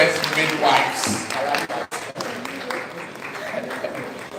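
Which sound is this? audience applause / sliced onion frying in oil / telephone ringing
audience applause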